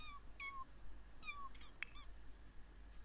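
A cat in The Sims 4 gives several short, high meows spaced across the stretch, fairly faint over a low steady hum.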